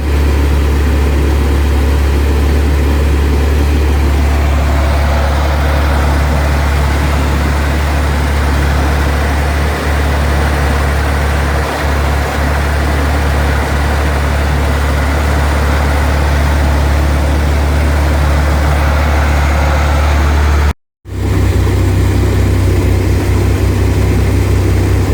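A Chevrolet Corvair's rear-mounted engine idles steadily and loudly for the whole stretch, a low even rumble with a brief dropout near the end before it carries on.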